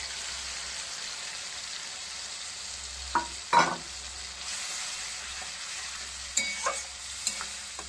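Green chili paste and mustard frying in oil in a pan, being stirred: a soft, steady sizzle with a few sharper scraping and spattering bursts from the stirring, close and fairly quiet, with no voices.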